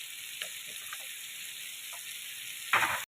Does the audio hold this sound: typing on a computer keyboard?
no